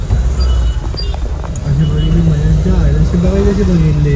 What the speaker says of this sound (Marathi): अहो तू कशी झुकझुक गाडी बघितली